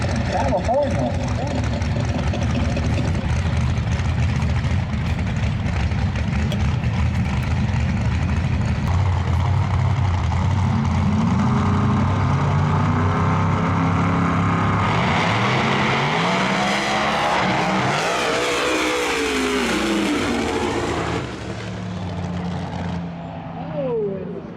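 A twin-turbo Chevrolet Nova drag racing on small tires on a no-prep track roars loudly and continuously, building as it runs and sweeping past close by near the end, with an announcer talking throughout.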